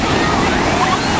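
Big Indian Ocean waves surge and wash loudly close by at a beach, a dense continuous roar of surf and wind over a brief moment.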